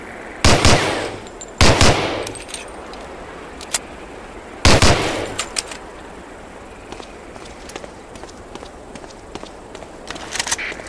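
A .45 pistol in the World War II shooter Medal of Honor: Allied Assault fires three loud, sharp shots at a boot-camp target range, spaced over several seconds, with faint clicks and quiet ambience between them.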